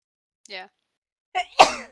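A person gives one sharp, loud sneeze at close range, preceded by a brief spoken word and a sharp intake of breath.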